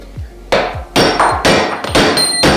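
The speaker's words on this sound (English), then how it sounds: "I'm just hammering on the roll pin and the flex coupling." Metal hammer strikes on a steel roll pin in a lawn mower's flex coupling, about six sharp ringing blows in an uneven rhythm, close and loud.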